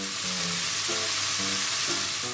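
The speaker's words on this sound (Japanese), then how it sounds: "で今この段階では焼くっていうよりも焦げ目をつけるっていう段階ですね。" Oysters searing in a pan over high heat, a dense continuous sizzle heard up close, with a low tonal hum running underneath and no talking.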